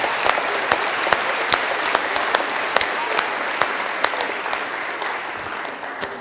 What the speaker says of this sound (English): would you join me in a round of applause for Mrs. Gould, who also is doing amazing work here?